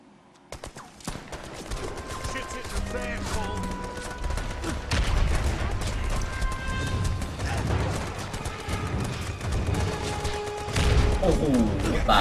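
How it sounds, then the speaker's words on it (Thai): Brothers in Arms 3 battle noise: bursts of rifle and machine-gun fire with heavy explosions rolling continuously, dense and loud, while someone talks over the combat. "โอ้โหตายเลยโดนระเบิด"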